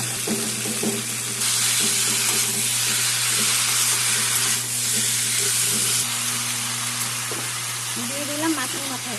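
Spice paste, peas and chopped kohlrabi frying in a pan for fish head curry, a steady close sizzle and hiss running throughout with a low hum beneath and brief stirring clatter near the end.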